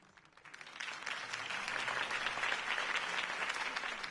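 Applause from a crowd follows a mayoral campaign speech for Harvey Dent in a staged scene, building from scattered claps into dense, sustained clapping that carries steadily to the end.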